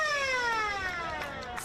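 Three-quarter time siren sounding at an Australian rules football match, Labrador v Morningside, a QAFL Round 9 game: a steady, loud, drawn-out tone that glides gently downward over nearly two seconds, with no talk over it.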